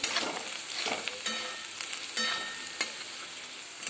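Puffed rice with turmeric and salt is stirred in a pan, giving a soft continuous dry rustle with light scraping taps close by and no voices.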